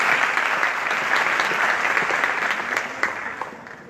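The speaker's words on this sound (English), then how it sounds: "So please give her another round of applause for the courageous work" A youth summit audience in Morocco gives a sustained round of applause, a dense crowd of claps that holds steady and then gradually thins out.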